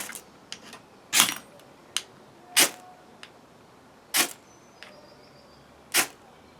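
A ferro rod firesteel struck repeatedly, giving about seven sharp scraping rasps at uneven intervals, close and loud against a quiet background.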